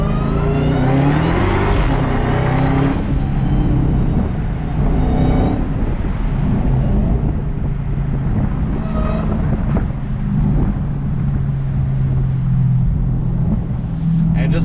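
A Dodge Hellcat widebody revs and accelerates hard on a street, its loud engine roar climbing through several surges, with gear-shift dips and a sustained drone as the car pulls away.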